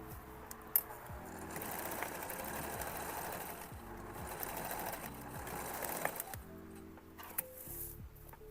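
A sewing machine stitches scraps of denim, running in steady rapid bursts with short pauses between runs, close by with faint clicks.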